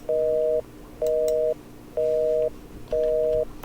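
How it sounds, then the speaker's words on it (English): A telephone busy signal from the video game The Painscreek Killings, heard in a hunting cabin: four steady, even beeps of about half a second each, evenly spaced, loud and clear with no talking. "the power's out everywhere, but yet, you know, the phone's still making noise"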